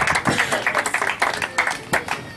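An audience at a youth confederation committee investiture applauds after a speech, a brisk, uneven patter of many hands clapping at moderate distance.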